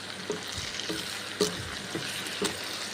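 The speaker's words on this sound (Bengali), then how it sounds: "তারপর নেড়ে চেড়ে ভেজে নিচ্ছি" Chicken with ground spices fries in a pan under a constant sizzle, while a utensil stirs and knocks against the pan in several soft, evenly spaced strokes, heard close up with no talking.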